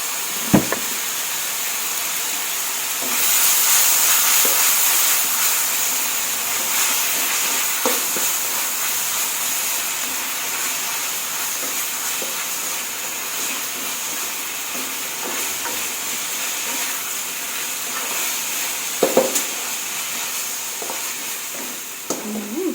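Pork stir-fried with holy basil-like yira leaves sizzles steadily in a pan after water and a splash of dark soy sauce are added, a continuous close frying hiss with occasional stirring clanks, no talking.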